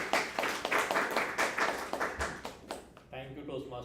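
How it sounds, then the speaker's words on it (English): Audience claps at a Toastmasters meeting, a few seconds of scattered clapping that fades before a voice begins speaking near the end. "Huge round of applause for him,"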